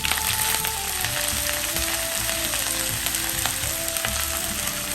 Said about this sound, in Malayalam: ഞാനിവിടെ ഉള്ളി കടുക് പൊട്ടിച്ചെടുത്തിട്ടുണ്ട്.